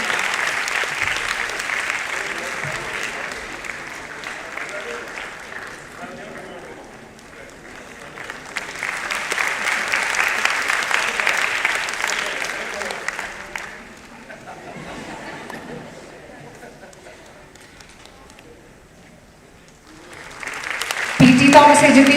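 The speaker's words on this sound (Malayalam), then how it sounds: "കൊച്ചുമിടുക്കന് നിറ കയ്യടികൾ കൊടുത്തുകൊണ്ട് നമുക്ക് പ്രോത്സാഹിപ്പിക്കാം." An audience at an evening award ceremony applauds in two long swells of clapping separated by quieter stretches, with a third burst rising at the end.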